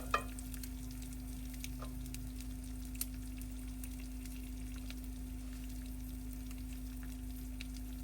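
Halved bacon strips frying gently in a pan over very low heat, a quiet, even crackle with a faint steady hum beneath and an occasional sharp tick.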